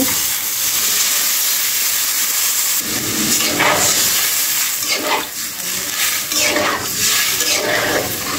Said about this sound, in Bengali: এখন আমি ঝোলের জন্য পরিমাণ মতো জল দিয়ে দিব।